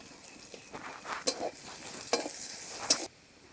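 Crushed garlic frying in a pan for a kuche fish curry, a soft steady sizzle broken by several sharp stirring clatters, close and moderately loud, with no talking.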